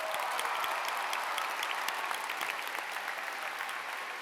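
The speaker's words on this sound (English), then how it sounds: "can we give our YouTubers a huge round of applause?" A large crowd at the MINECON 2015 Minecraft convention closing ceremony applauds its YouTubers, a dense, even wash of clapping that holds steady throughout.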